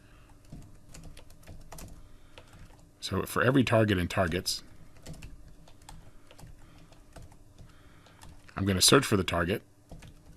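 Steady clicking of a computer keyboard as Java code for a linear and binary search program is typed, close and continuous, pausing while someone talks twice.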